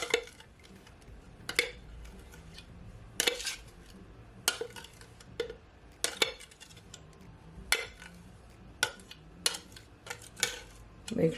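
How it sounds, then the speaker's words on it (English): A utensil scraping thick green seasoning out of a container, with sharp metallic clinks and taps against the sides at irregular intervals between quieter scraping, close and fairly soft. "Make sure you scrape everything out, guys."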